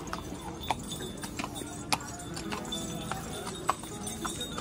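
A horse's hooves clip-clop on the Ridge in Shimla during a ride, with irregular sharp hoof strikes close by over a busy outdoor background and faint voices.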